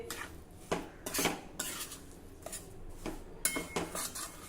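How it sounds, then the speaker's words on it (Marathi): Wheat flour roasting in ghee in a pan over low heat, mostly heard as faint, close scraping and clinking of a utensil against the pan in irregular strokes, with no talk. "या तुपामध्ये आता आपल्याला ही कणिक घालायची आहे आणि अगदी मंद आचेवर आता आपल्याला ही कणिक मस्त भाजून घ्यायची आहे"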